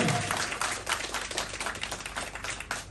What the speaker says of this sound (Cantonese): 俾掌聲你哋各位嘉賓